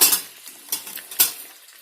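Mustard seeds, a little over one and a half teaspoons, dropped into a cooking pan for tempering a tamarind pulihora paste, giving a few sharp clinks and rattles with quiet crackle between them, close and alone with no talk.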